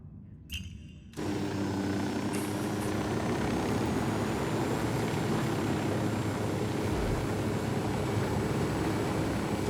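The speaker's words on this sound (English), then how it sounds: "Man, this helicopter is in bad shape." A battered helicopter in the video game Ghost Recon Wildlands roars continuously with a steady engine and rotor drone that starts abruptly after a second of quiet, then holds loud and close throughout, with no talking.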